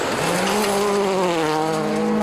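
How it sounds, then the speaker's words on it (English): A Skoda Fabia rally car on gravel at the 2003 Rally Finland screams past, its engine note climbing steadily under hard acceleration, loud and close for a couple of seconds. "Tony Gardemeister is struggling with the new Skoda Fabia on the gravel."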